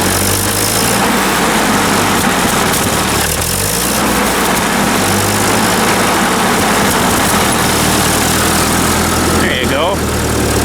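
A 1944 Ford 2N tractor engine runs loudly and steadily close by, a low chugging idle with a slight change in pitch partway through, and a voice talks briefly over it.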